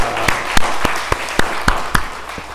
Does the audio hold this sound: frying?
no